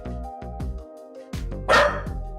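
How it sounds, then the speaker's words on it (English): A puppy barks in a quick series of sharp, loud yaps close by, with short gaps between them and one higher, noisier yelp near the end, set in a quiet indoor room. "I didn't ask you to bark at me."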